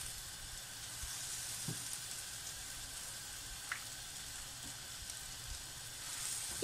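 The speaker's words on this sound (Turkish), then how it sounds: "tüm tavuklarımı bitirinceye kadar aynı şekilde kızgın yağın içerisine atarak kızartıyorum" Chicken pieces for a mock-calamari dish fry in hot oil with a steady, dense crackling sizzle that runs throughout, with a few small pops and no voices.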